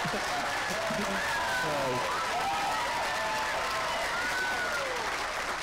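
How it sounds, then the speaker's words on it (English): Audience applause at a fall 2012 college commencement ceremony, loud and continuous, with cheers and whoops rising above the clapping crowd. "You can applaud, right? You can applaud."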